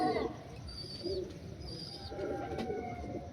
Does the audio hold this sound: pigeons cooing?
yes